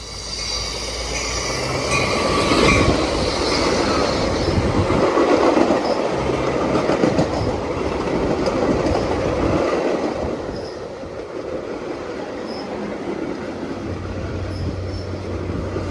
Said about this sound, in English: Our final train on this Labor Day weekend would be the opposite of what we just saw coming inbound, number 2240, with Metra F59PH number 98 pushing to Chicago.